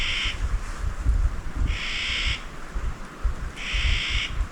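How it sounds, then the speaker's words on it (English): In a quiet, eerie forest, a single bird gives three drawn-out hoarse squawks at steady intervals, moderately distant, over low rumbling background noise. "Have one bird start squawking."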